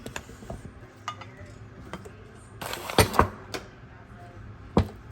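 Rice scooped into a pan while spam and rice are cooked at home, with soft scrapes and a few sharp clinks of utensil on pan, the loudest near the middle and one near the end, under faint background noise.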